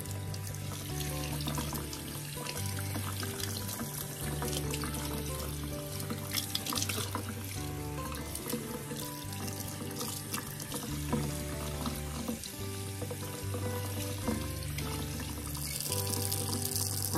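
Tap water runs steadily into a tub or sink while a dog is bathed, a faint continuous splashing stream under background music with repeating low tones.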